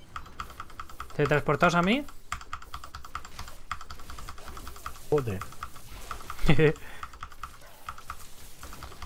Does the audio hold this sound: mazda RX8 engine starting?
no